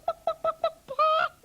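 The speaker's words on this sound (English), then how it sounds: "hens, well, they make a sort of clucking noise like this" A hen clucking close up, four short evenly spaced clucks followed by a longer drawn-out cackle and another cluck starting, clear and alone.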